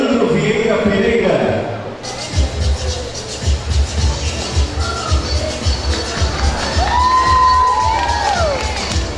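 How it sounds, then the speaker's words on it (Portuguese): A crowd at a university literature graduation ceremony cheers and whoops loudly, with shouts, scattered clapping and rising whistles over a busy hall, preceded by a brief stretch of announcement talk. "Aplausos"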